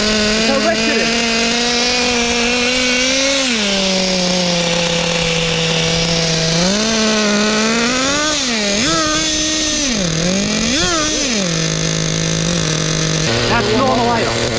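Nitro engine of a 1/5-scale Thunder Tiger RC motorcycle idling loudly and up close, a raspy buzzing drone whose pitch repeatedly swells and dips with small throttle blips before settling back to idle.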